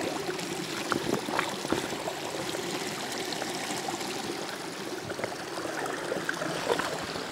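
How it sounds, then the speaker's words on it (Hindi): Steady splashing, trickling water runs continuously, like a container being filled from a stream, close and fairly loud throughout. "अच्छा खासा पानी मैंने इसमें भर लिया है"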